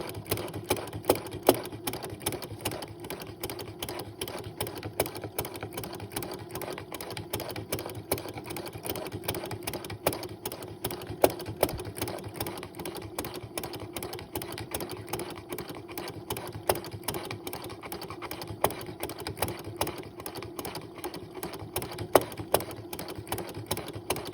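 An old sewing machine rattles steadily while stitching a single feather in gray thread, a continuous fast mechanical chatter that stays close and loud throughout with no voices.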